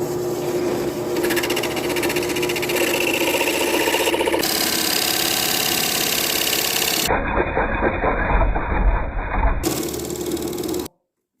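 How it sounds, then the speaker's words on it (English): A homemade disc sander with a round flat disc, built from an old grinding motor, runs steadily with a loud mechanical whine and hum, its tone shifting partway through as it works. "This is a homemade sander that I built several years ago. It's just a round flat disc here. This was an old grinding motor"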